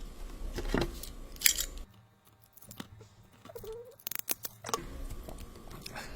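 Ethernet cable being cut to length with scissors or cutters: a few sharp snips and clicks close by, with handling rustle and a quiet stretch between cuts.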